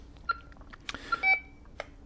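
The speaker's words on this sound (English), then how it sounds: "you're getting that short beep. This is telling you that there is a voltage which is questionable" Tempo Nautilus telephone test set giving short warning beeps for a questionable line voltage, a few brief faint electronic tones among quiet clicks, no talk.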